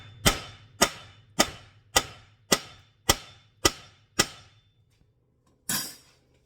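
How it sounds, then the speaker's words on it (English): A hammer strikes the suspension arm of a 1999 Buick Century during CV axle replacement: eight sharp metallic blows in a steady rhythm, a short pause, then one final heavier hit, loud and close. "we're going to come in here and hit it with a hammer"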